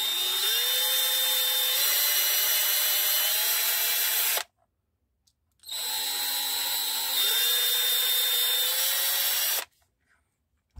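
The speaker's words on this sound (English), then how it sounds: "I'm going to drill this in there." A power drill bores a screw hole while a TV remote control is being repaired, whining in two sustained bursts of about four seconds each, with a pitch rise partway through the second, separated by short silences and loud and close throughout.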